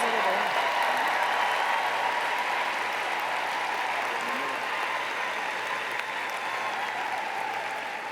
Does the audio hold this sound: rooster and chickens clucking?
no